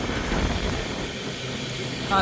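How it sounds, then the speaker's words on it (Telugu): Low rumbling noise of a train arriving at a station fills the background, with a faint voice speaking briefly near the end. "ఇప్పుడు ట్రైన్ వస్తుంది, ఇండియాస్ లాంగెస్ట్ ట్రైన్ అది."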